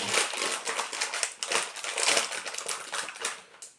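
FlaTaffy chewy candy wrappers are torn and opened up close, giving a dense run of crinkling, crackling plastic rustles in uneven bursts for several seconds.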